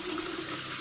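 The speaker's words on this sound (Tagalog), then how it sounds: "Ayan, lagyan na natin ng tubig." Water pours steadily into a bucket, a close, continuous rushing fill with no voices over it.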